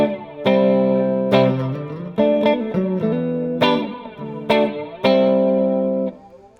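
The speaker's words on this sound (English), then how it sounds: "the real draw of this pedal that I want to demonstrate is the third setting. It is called flurb." Electric guitar played through an effects pedal set to its third mode, called flurb, with some reverb: a sequence of struck chords and notes ringing out with a warbling, modulated shimmer, steady and close with no talking.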